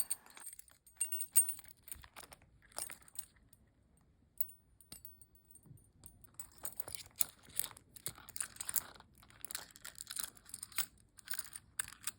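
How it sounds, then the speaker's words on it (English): House keys on a ring jangle and clink as they are fed into a Coach L-Zip signature canvas key case, close and soft, with scattered small metallic rattles and rustling. "And finally, my house keys. The key ring goes through with no problem whatsoever."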